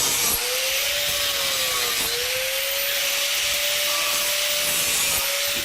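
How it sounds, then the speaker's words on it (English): An angle grinder cuts the mounting tabs off an electrical box, giving a steady, loud, continuous whine with a rough abrasive hiss and a slight dip in pitch as the disc bites, close by and without talk. "So first thing I gotta do is get my grinder, get rid of my tabs, modify the box."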